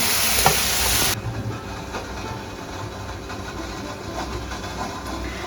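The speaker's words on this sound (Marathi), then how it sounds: "इथे बघा पाणी ठेवलंय, चांगलं उकळलंय" A pot of water at a strong rolling boil in a Konkan home kitchen, a steady close bubbling hiss that starts with a louder burst and then settles into an even rumble.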